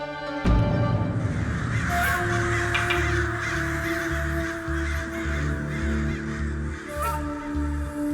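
Crows caw loudly and repeatedly close by, with harsh calls from several birds overlapping throughout.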